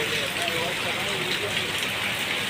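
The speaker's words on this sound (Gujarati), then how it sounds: "અને અત્યારે વધી ગયો વરસાદ" Heavy rain pours steadily and close by, a dense even hiss with soft spatter that holds at the same level throughout, with no voices on top.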